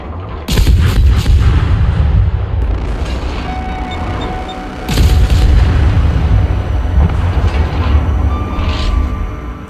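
A German Tier 3 cruiser, the Kolberg, fires its guns at an enemy cruiser in World of Warships. Two heavy, booming salvos roar close and loud, each trailing into a long rumbling decay.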